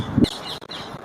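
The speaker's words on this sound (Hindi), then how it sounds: "तोते अपनी चहचहाहट से रोशनी कर रहे हैं।" Parrots chirping at an old marble tomb in Delhi, a few short bright calls after a brief low thump, close and fairly loud with no talk.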